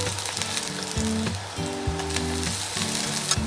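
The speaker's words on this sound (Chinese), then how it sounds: "鲑鱼两面都要煎熟，这样才能锁住肉汁" Salmon fillets pan-frying in hot oil for a miso tofu hotpot, a steady close sizzle running the whole time with a few soft clinks and shifts of the pan, no voices.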